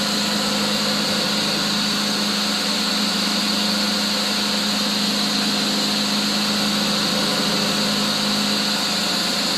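A Delta Unisaw table saw runs freshly started, a steady loud motor hum with a constant whine, unchanging and alone for the whole stretch.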